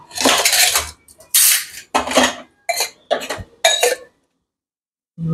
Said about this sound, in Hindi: धो लिया बर्तन